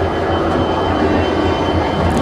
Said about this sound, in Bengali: দেখছো হাওড়া থেকে ছেড়ে দিচ্ছে আমাদের ট্রেন